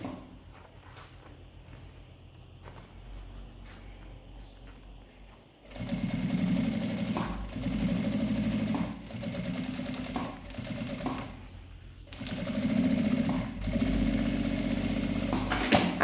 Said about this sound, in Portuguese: a gente vai uma costurinha de meio pé de máquina em toda a volta para rebater